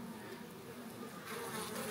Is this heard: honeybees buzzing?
yes